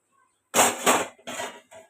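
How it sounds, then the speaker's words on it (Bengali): A metal lid lifted off a cooking pot on a gas stove, a few short clanking, scraping hits close up in a quiet kitchen. "এবার আমি ঢাকনাটা খুলবো, দেখবো"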